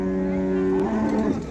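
A cow at the Shahrisabz livestock bazaar lets out a single long, low moo that sustains and then wavers as it tails off, close and loud against the market's background murmur.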